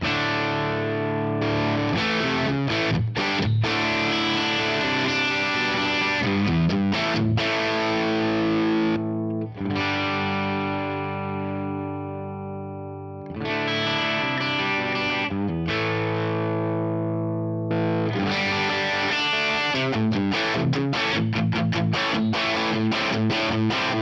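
Distorted electric guitar played through a cab block placed before the amp, thick saturated chords and riffs ringing out in several phrases with brief pauses, loud and alone.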